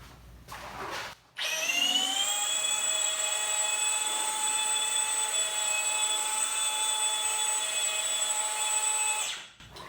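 A car polisher machine runs steadily on clear coat, its motor spinning up after a brief rise and holding a loud, even whine throughout before winding down near the end.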